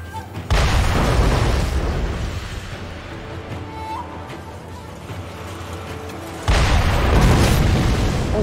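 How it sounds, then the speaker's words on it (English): Cannon blasts in the video game Sekiro: Shadows Die Twice, two heavy booming bursts with rumbling decay, the first fading slowly before the second hits loudly near the end. "Oh, he has a cannon."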